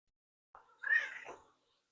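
A big, vocal male house cat lets out a single drawn-out meow, close and clear, lasting under a second against near silence.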